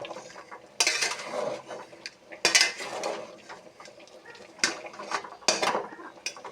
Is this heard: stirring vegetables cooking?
yes